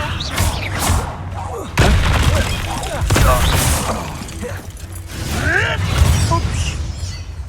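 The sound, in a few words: spell casting effects in Hogwarts Legacy video game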